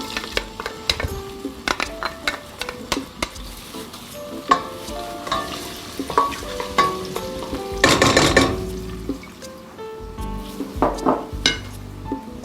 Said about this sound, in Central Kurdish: ڕۆنەکەم گەرم بووە، پیازەکە خەمە ناوی،